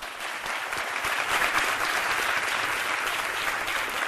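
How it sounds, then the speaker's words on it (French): Steady applause from a studio audience on a lunchtime TV show, dense and continuous clapping at fairly close range with no voices over it. "Vous pouvez vous applaudir, s'il vous plaît."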